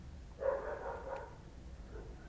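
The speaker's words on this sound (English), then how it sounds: "you can hear my dog barking her head off" A pet dog barking somewhere in the room or nearby, a short muffled bark followed by a lower fading yelp, moderately faint and alone with no talk.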